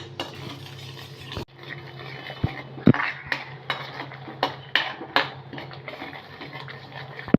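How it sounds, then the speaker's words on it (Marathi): Curd and spice masala sautéed in a pan: repeated clinks and scrapes of a spoon against the metal pan, fairly close and loud, with a low background hum and no speech. "आता हे पण आपण दही मसाल्यामध्ये दोन तीन मिनटं परतून घेणार आहोत"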